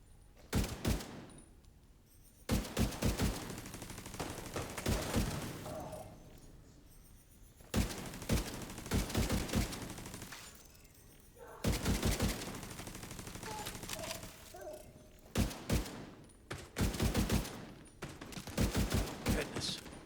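An exotic gun fires in The Division 2 video game in several repeated bursts of rapid automatic gunfire with short pauses between them, heard fairly quiet and with no talking over it.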